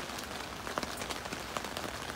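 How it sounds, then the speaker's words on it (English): Steady rain patters on a Luxe Twinpeak tent late at night, a continuous close hiss dotted with louder individual drops tapping the fabric, with no voices. "Still raining."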